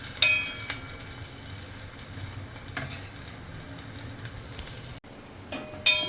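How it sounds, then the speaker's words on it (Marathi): Finely chopped onion sizzles steadily in hot oil in a pan, with spatula scrapes and stirring clatter close by. A brief cut falls near the end, then louder stirring follows. No one talks. "कांदा व्यवस्थित परतून घ्यायचा"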